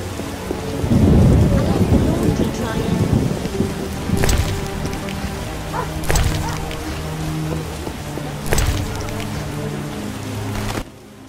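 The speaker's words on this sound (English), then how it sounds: "Serious rain." Heavy rain pouring steadily in The Witcher video game, a loud, dense hiss that continues throughout, with a deep low rumble early on, several sharp cracks and faint background voices.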